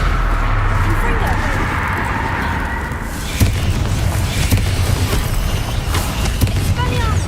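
A Confringo blasting spell explodes in Hogwarts Legacy with a sudden broadband boom around the middle, followed by rumbling, creaking game effects under continuous voices and background noise.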